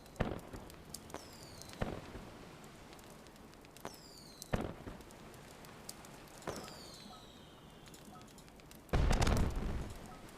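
Fireworks burst during a countdown event in the mobile game Mabinogi Mobile: a series of sharp booms with whistling rising streaks, spaced over several seconds and ending in a dense loud crackle, with no speech.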